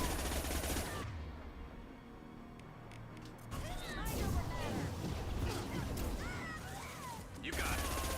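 Combat gunfire from the video game Mass Effect, with bursts of weapon fire, mechanical clatter and scattered effects, steady and loud throughout with no speech.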